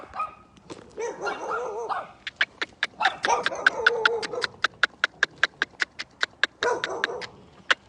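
Small dogs bark in a rapid, sharp series of yaps, sparse at first and then a steady fast run, with some whining and a low murmur of voices beneath.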